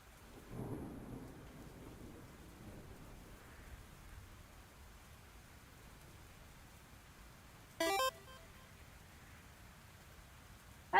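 Thunderstorm ambience from the video game Fields of Mistria: steady faint rain hiss with a low rumble of thunder early on, then a brief sharp crackle near the end, no voices.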